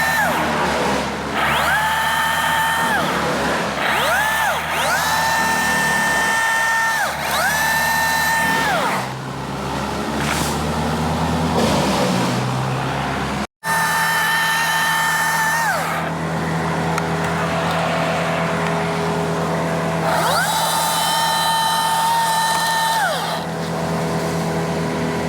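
A chainsaw cuts the tops out of a tree spar during a giant tree takedown done without big equipment, its engine droning steadily with repeated revving bursts under load, loud and close throughout, broken by one brief sharp click midway.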